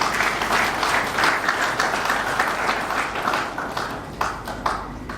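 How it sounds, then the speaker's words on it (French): An audience in a hall applauds deputies and senators at the official launch of a private-sector subcontracting regulatory authority, steady dense clapping filling the room throughout, with a few sharper claps standing out near the end. "Veuillez bien les applaudir parce que c'est leur droit."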